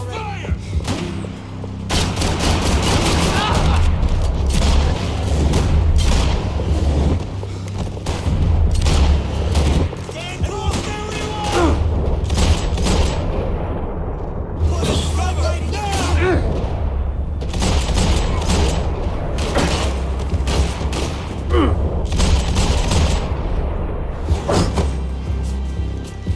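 Max Payne 3 gunfire roars almost without pause, dense overlapping shots and heavy booms loud and close throughout, with voices speaking beneath the barrage.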